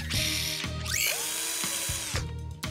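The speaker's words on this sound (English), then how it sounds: "Ratchet." A cartoon ratchet tool whirring and clicking in quick bursts with rising mechanical tones, bright and close, with no talk.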